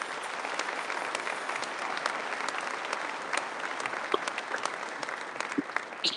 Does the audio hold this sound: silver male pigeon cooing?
no